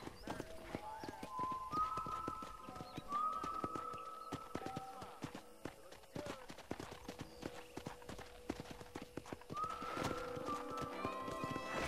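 Hooves clip-clop rapidly while a horse whinnies several times in the video game Red Dead Redemption, with brief talk mixed in and game-like ambience behind.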